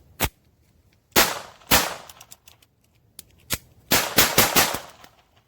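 Sharp pistol shots crack out in an irregular series, a few single reports, then a quick cluster of four or five, loud and close outdoors with quiet gaps between.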